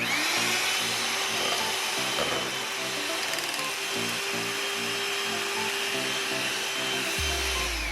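An electric mixer whips five egg whites in a bowl, giving a continuous loud motor whine with a rattling beater that holds steady for several seconds before winding down near the end.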